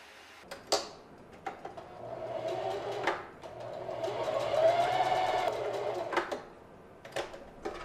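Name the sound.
sewing machine sewing the crotch seam of shorts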